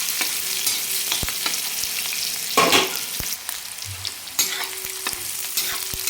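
A large chopped onion sautéing in a pan on a griddle for zunka, with steady sizzling and sharp stirring scrapes at irregular intervals and a louder burst of frying midway.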